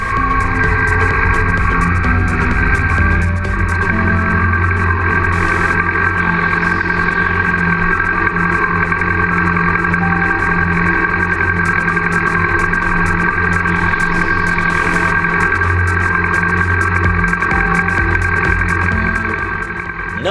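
A restored motorcycle's engine drones steadily on a test ride, a constant low rumble and mid-range hum, loud and close, with no talking.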